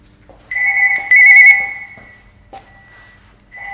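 A telephone rings in a tattoo shop: loud, close electronic ring tones come in two bursts, pause, then sound again briefly, with no talking over them.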